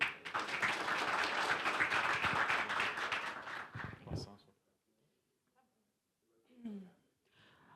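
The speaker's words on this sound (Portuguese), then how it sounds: "Salva de palmas" A conference audience applauds loudly for about four seconds, then the clapping stops abruptly and a brief murmur follows in the quiet.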